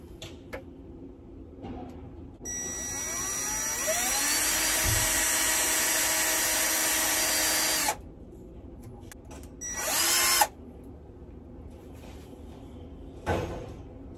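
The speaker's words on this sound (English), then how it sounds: "So I'm going to drill a pilot hole first" A power drill bores a pilot hole in a bus being repaired, with a sustained whine lasting several seconds, then shorter bursts and a brief final rev, close by with no talking.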